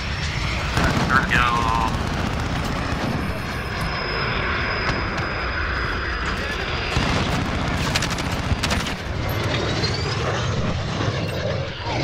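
Chopper gunner helicopter killstreak over the Shoot House map in Modern Warfare: a steady, loud rotor and engine drone runs throughout, with bursts of gunfire and game effects layered on top, while players talk over it.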